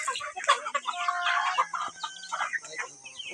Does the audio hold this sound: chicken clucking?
yes